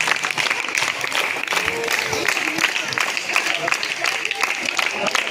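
Audience at a school Teachers Day celebration at ZPHS Konidela clapping in a dense, continuous round of applause, moderately loud, with an announcer talking over it.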